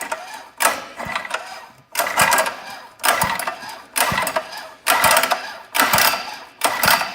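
A dirt bike engine with the motor switched off is pulled over by its recoil starter to drain leftover oil. About seven rhythmic, loud mechanical whirring pulls, each lasting roughly a second, come with short pauses between them.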